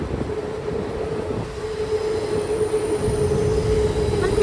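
A train runs along a railway in Thailand with a steady, loud rolling rumble and a sustained wheel squeal throughout, close by and with no talk.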